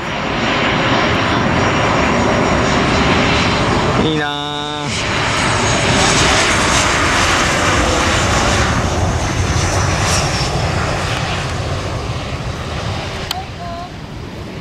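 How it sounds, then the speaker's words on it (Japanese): A landing propeller airplane drones loudly overhead on Miyako Island, its steady engine roar filling the air while a person briefly speaks underneath. "こう着陸する飛行機がね、見えてるんですけど"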